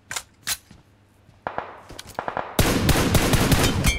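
PUBG Mobile gunfire: scattered single shots at first, then a dense, sustained burst of rapid automatic fire that carries on to the end, loud and close.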